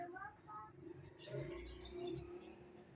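Faint chirps and calls from caged birds, including a hill myna, come from a bird shop on Jalan Raya Bojong, a quiet mix of overlapping tweets under a low background hum.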